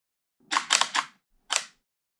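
A camera shutter fires during a slow-shutter exposure exercise: a quick cluster of three crisp mechanical clicks, a brief pause, then one more sharp snap, all close and clear against silence.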